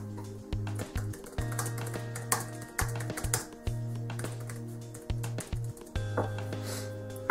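Keys tapped on a Microsoft Surface keyboard in irregular bursts of soft clicks, each run of keystrokes separated by short pauses, close and moderately quiet under a steady low electronic hum.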